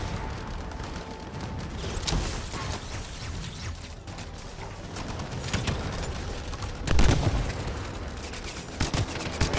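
Machine gun turret fire in the video game Anthem: continuous loud rattling bursts with heavier booms rising around the seventh second, a steady chaotic battle din with no talking.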